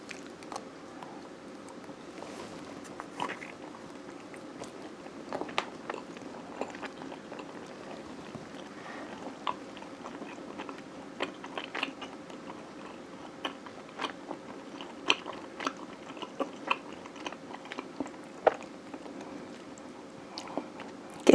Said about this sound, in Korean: 그러면 일단 어, 서울 지역 떡부터 한번 먹어볼게요